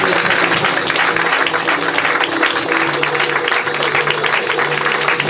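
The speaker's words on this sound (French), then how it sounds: "Est-ce que nous pouvons encore acclamer?" A church congregation applauding, a loud, steady wash of many hands clapping that fills the space without pause from start to finish.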